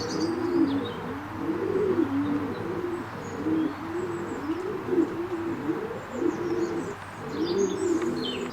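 Many racing pigeons coo continuously in a rolling chorus close by inside a loft, with faint chirps and a soft background hum.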